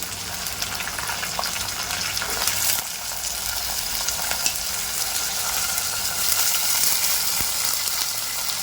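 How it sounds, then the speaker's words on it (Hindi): Pumpkin pieces frying in a pan for a dry kaddu sabji, giving a steady, loud, hissing sizzle throughout, with faint stirring clicks and no talking. "जैसे ये बहुत अच्छे से फ्राई होने लगेंगे, अब इसके अंदर मैं डाल दूंगी पम्पकिन"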